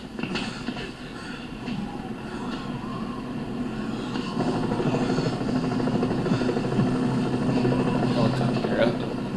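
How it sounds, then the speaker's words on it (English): A Tokyo police helicopter in Yakuza Like a Dragon, its steady rotor drone rising slightly in loudness over the whole stretch, with a brief voice at the very start. "Helicopter up. This is the Tokyo Police."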